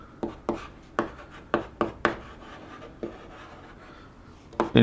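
A pen scratches out a series of short, sharp strokes in an irregular rhythm during a physics lesson on the electric field of a charged ring, close and clear, with a louder scrape at the end.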